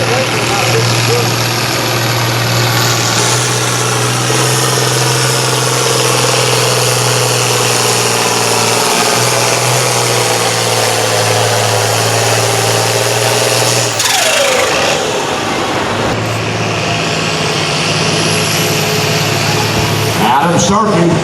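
Pulling tractor engines roar loud and steady in a tractor pull, a sustained heavy drone that dips and shifts pitch partway through, with an announcer talking over it.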